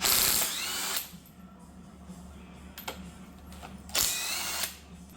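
Power tool on a Chevrolet Silverado during power steering and water pump replacement, pulling studs out: two loud whirring bursts with a shorter one between, ratcheting over a steady low mechanical hum, no talking.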